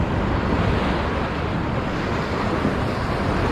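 Steady broadband wash of water surging against rocks along a shoreline where bass are being lure-fished, continuous and fairly loud with a rushing, surf-like texture and some wind noise.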